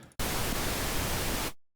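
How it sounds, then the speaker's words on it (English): Pink noise from the Vital synthesizer, a steady, even hiss that switches on abruptly, holds flat for over a second, then cuts to silence. "Pink noise."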